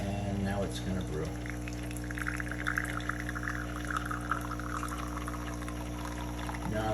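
A MEROL super automatic espresso machine brews coffee, a steady pumping hum with a liquid pour and gurgle running throughout at close range, while someone talks over it.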